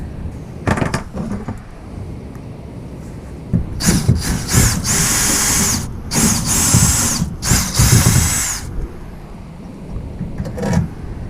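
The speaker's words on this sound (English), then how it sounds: "and finish drilling it up." Loud bursts of drilling into metal on a Toyota Tacoma bed channel, several high-pitched grinding runs in a row with short pauses between them, close up.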